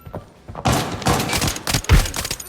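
Gunfire in the video game Arena Breakout rings out in loud, close bursts of rapid shots with heavy thuds, several clusters overlapping across a couple of seconds after a quiet start.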